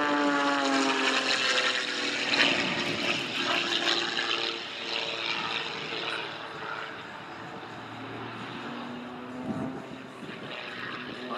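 A tiny Pitts Special aerobatic biplane flying at the Weston Park airshow, its propeller engine droning continuously and steadily at moderate distance, rising and falling slightly as it manoeuvres.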